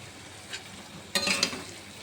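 Prawns go into a pan with coconut milk, giving a faint brief noise and then a louder burst of sizzling and stirring up close that quickly fades.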